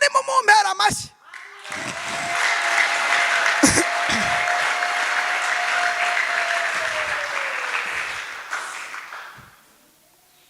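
Warm applause from a church congregation swells after a short pause and holds steady for about seven seconds, with a sustained held tone underneath, then fades into quiet.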